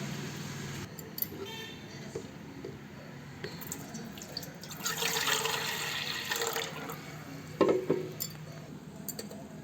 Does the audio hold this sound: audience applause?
no